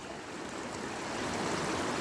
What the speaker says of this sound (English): this is a beautiful little creek crossing